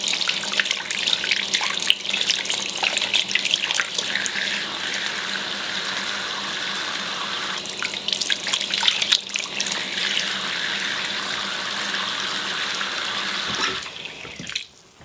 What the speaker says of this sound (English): I'll continue to dunk that under the water and then just kind of squeeze that around in this brush